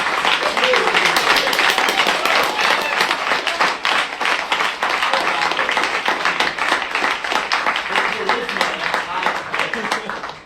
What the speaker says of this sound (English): Can we get another round of applause for our tremendous...